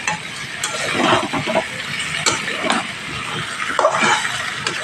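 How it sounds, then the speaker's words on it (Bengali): Chicken and potatoes sauté in a pan, with sizzling and scraping stirs coming in uneven bursts, close and fairly loud without any talk. "এখানে আমি মাংস আর আলু যে ভেবে রেখেছি দিয়ে দেবো এইভাবে কষাতে হবে দু তিন মিনিট"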